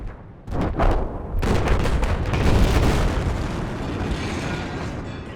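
Pipeline explosion during the Battlefield 4 Levolution destruction event in a video game: a loud deep boom that swells into a sustained roaring, rumbling blast with crackling debris, no speech.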